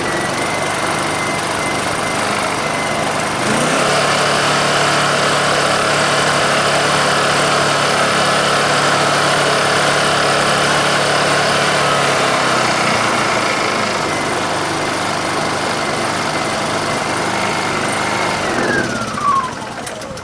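Small Honda EU2000i inverter generator running on carburetor cleaner, a steady loud engine drone holding throughout, with a brief shift in pitch and a short rev toward the end; no talking.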